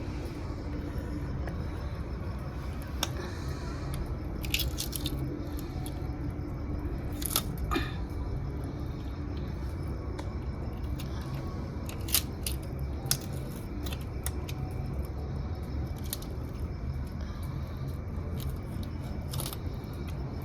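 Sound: cutting rohu fish

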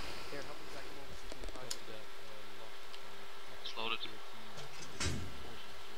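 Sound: bees buzzing in military video game Arma

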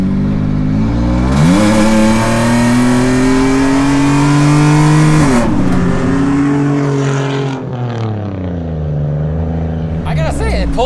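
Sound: supercharged Toyota RAV4 accelerating through the gears

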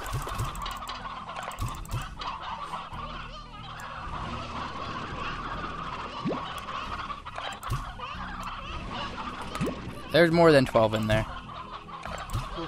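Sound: chickens (hens) clucking in Slime Rancher video game

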